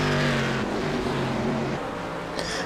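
Race cars on the Nürburgring circuit roar past in an endurance race, engines droning steadily with a shifting pitch, loud and close throughout the short stretch.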